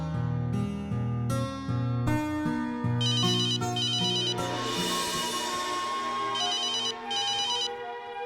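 An electronic phone ringtone plays a repeating melodic pattern, loud and close, continuing for several seconds without any voices.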